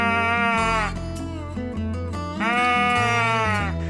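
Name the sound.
Squeezin Bleat deer call, elongated bleat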